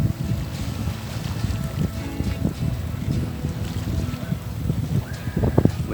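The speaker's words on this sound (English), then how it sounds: "Wind staying pretty constant now" Steady wind rushes over a sailboat on a night sail at sea, with a dense, constant roar, gusty flutter, water wash and occasional creaks and knocks from the boat.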